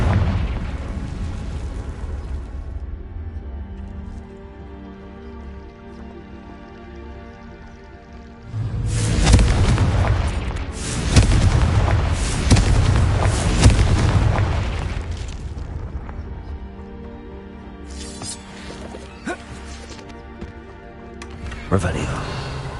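Confringo fire-spell explosions in the video game Hogwarts Legacy: loud blasts burst in around nine seconds and rumble on for several seconds, with a further hit near the end, under speech.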